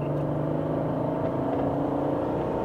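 An Alfa Romeo SZ sports car engine while driving, a steady mid-rev drone with a low harmonic hum and smooth continuous tone, no speech over it.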